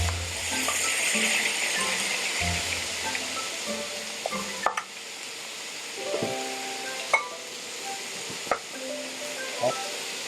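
Ground meat sizzles steadily in a hot pan for shepherd's pie, a continuous frying hiss with occasional light clinks of a utensil, no talking over it.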